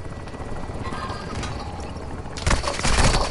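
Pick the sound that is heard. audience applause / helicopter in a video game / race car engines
helicopter in a video game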